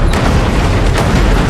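Car slamming into a stopped convoy from the side in a film scene, a loud continuous crash-like roar and rumble filling the whole moment, dense and close with no voices.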